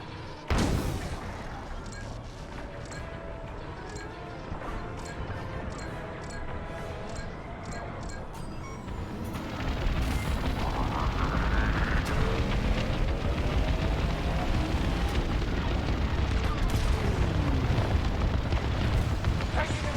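Laser cannon fire and explosions in the Star Wars: Squadrons space dogfight start as a rapid train of blaster shots, then build into a constant rumbling roar of blasts and engine noise.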